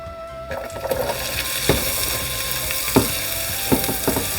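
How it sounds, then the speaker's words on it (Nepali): Chopped onions fry in a pan, a steady close sizzle with occasional sharp crackles and stirring clicks, with no voices. "प्याजलाई एकछिन भुटौँ"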